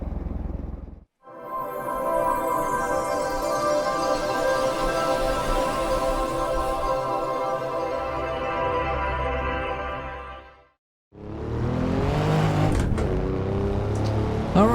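Alfa Romeo Giulia Quadrifoglio engine in the Assetto Corsa racing game on the Nordschleife, a loud sustained drone with rising and falling revs, cutting out briefly twice before roaring back up with climbing gear pulls.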